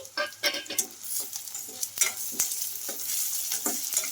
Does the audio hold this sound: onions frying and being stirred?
yes